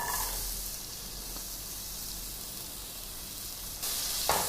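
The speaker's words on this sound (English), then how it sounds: "Now let's add the onion pieces." Onion pieces dropped into a tablespoon of hot oil in a pan give a steady, close sizzle with a broad hiss that holds throughout and swells louder near the end, with no talking.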